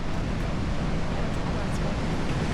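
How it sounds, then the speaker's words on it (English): Ocean waves crash against the rocky Mendocino coast near the sea arch, a steady broad roar of surf mixed with gusty wind buffeting the microphone. "Like, look at those waves."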